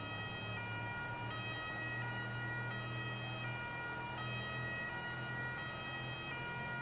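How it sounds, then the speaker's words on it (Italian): A police siren wails steadily in the GTA 5 video game, a continuous two-tone electronic cycle over a low engine rumble, with no talking. "Ah, è a pizza di sirena, assurdo."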